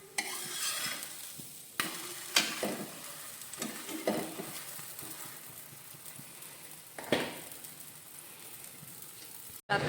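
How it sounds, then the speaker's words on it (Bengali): Sliced potatoes fry in a home kitchen pan, giving a steady close sizzle broken by sharp scraping stirs at irregular moments. "রাত্রিরের আলু ভাজা করা হচ্ছে"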